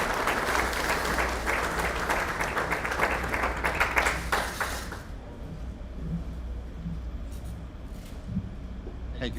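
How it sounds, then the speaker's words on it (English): An audience at a religious freedom event applauds steadily as a speaker is welcomed to the stage, a dense sustained clapping that stops about halfway through, leaving quiet room tone. "If you could, give him a round of applause."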